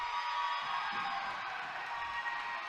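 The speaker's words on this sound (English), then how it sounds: "Listen to the crowd." Crowd at an independent wrestling show in Loganville roars and cheers in a steady, fairly distant wash of noise, with no commentary over it.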